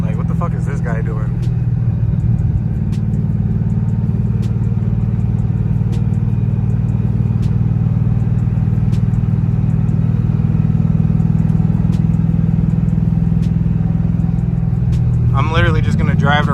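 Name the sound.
car engine running, 3V-swapped New Edge Mustang driving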